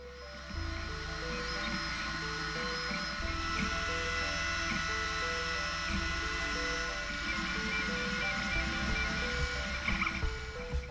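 A Snapmaker 3D printer prints a panel with a steady mechanical whir, its stepper motors stepping through shifting tones and little ratcheting ticks as the head moves, sounding close and continuous with no voices.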